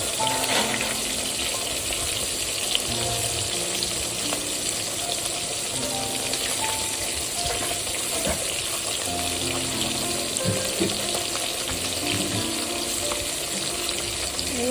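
Small tangra fish fry in hot oil, giving a steady, even hiss and sizzle that carries on unbroken with scattered faint pops.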